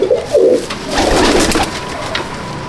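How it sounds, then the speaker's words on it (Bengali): A domestic flying pigeon, moulting, coos close by in several deep, rolling calls, the first pair short and the later ones drawn out and throaty. "দেখুন এটা বাড়ির উড়ানো পায়রা"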